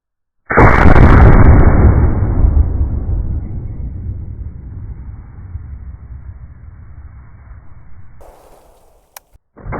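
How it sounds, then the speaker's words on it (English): A single 45-90 WCF rifle fires a 250 grain Cutting Edge Raptor bullet outdoors, one sharp, very loud blast with a long rolling decay, followed by a faint distant thump near the end. "let's shoot this right quick again and see if we can't catch that other bullet in these jugs"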